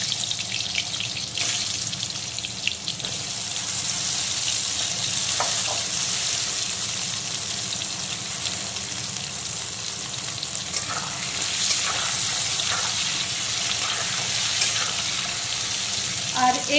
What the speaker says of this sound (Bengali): প্রথমে আলুগুলোকে ভেজে তুলে নেব।